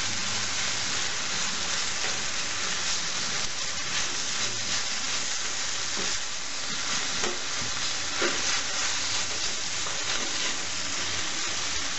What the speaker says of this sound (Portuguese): acrescentamos a cebola, demos uma breve refogada